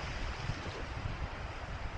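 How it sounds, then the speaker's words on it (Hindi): Sea waves surge and break on the beach at Gwadar while steady wind buffets the microphone, giving a continuous broadband wash with a low rumble throughout and no talking. "लहरें देखे कैसे आ रही हैं।"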